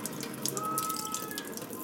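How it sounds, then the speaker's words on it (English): Cold water runs steadily from a tap into a sink, a soft continuous splashing stream heard close by. "That is cold water."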